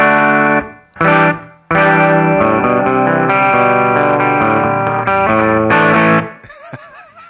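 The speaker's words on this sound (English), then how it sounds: "I have a 2009 Les Paul Traditional, and it sounds like this." A 2009 Gibson Les Paul Traditional electric guitar plays through a distorted amp, loud and close, with sustained chords and a shimmering, chorus-like wobble. Short breaks cut between phrases, and the last notes fade out.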